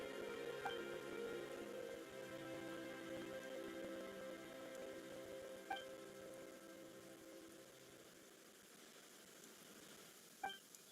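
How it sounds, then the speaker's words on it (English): Steady rain in Genshin Impact, a soft continuous patter over a layered musical backdrop, with a couple of brief sharp chimes near the middle and end. "Why is it raining all of a sudden?"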